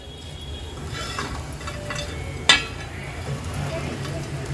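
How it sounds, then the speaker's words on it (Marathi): Crispy fried bitter gourd (karela) is tossed in a pan over a high gas flame, a soft continuous sizzle and stirring scrape with one sharp clink of a utensil against the metal. "हाय फ्लेमवर ह्याला छानसं एकदा परतून घेते"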